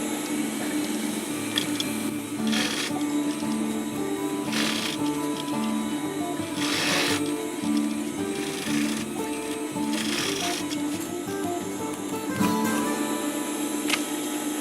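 A sewing machine stitches fabric for a DIY zipper pouch, a steady mechanical whir with rhythmic needle ticking and repeated short bursts of louder clatter, close and without talk.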